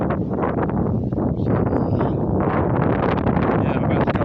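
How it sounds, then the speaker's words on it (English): Strong wind buffeting a microphone outdoors beside a parked van on a windy hillside, a loud continuous low rumble with gusting surges throughout, no voices. "the wind's coming from behind me. You can probably hear that on the microphone."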